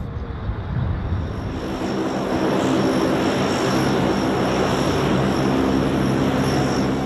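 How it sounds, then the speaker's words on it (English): A Super Guppy cargo plane with turboprop engines drones steadily and loudly, a broad sustained roar with a faint high whine and no talking. "The remarkable Super Guppy was developed in the 1960s specifically for NASA's needs."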